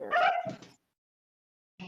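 A dog vocalizes up close with a short, wavering whine-like sound lasting under a second, then silence, then a brief fresh start of the sound at the end.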